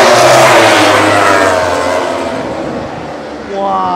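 Racing motorcycles at the Mandalika circuit roar past loudly, the engine note sweeping down and fading, then a second bike rises in at the end.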